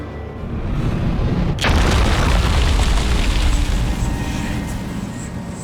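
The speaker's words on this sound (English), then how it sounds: "I think we may go flashbang there." A flashbang grenade goes off in a video game: a steady rumbling bed, then a sudden loud broadband blast around mid-clip whose roar and ringing hiss stay up for several seconds, no voices.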